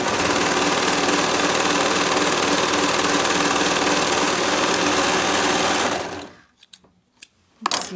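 A sewing machine stitches the bodice of a toddler's peplum top from a T-shirt pattern, running loud and steady with a rapid mechanical hum for about six seconds before stopping, followed by a few soft handling knocks.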